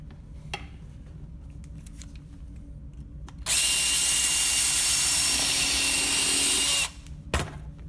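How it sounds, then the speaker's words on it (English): A power drill boring rivet holes to attach a stirrup to a shoe: one loud, steady whine of about three and a half seconds, with near-silence and a few small clicks before and after. "and then we'll drill our other holes, because that rivet will keep it from shifting to the wrong position"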